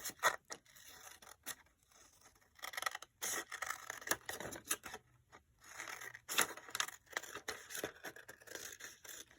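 Scissors snip through fabric in quick close bursts of crisp, repeated cuts separated by short pauses, quiet and alone while a booklet backing is trimmed.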